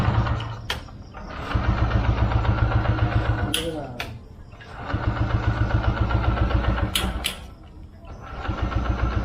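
A TVS XL 100 moped engine, just repaired with its fuel tank and fuel line refitted, is started and runs up in steady puttering surges, with sharp mechanical clicks and an idle that dips and rises over several seconds.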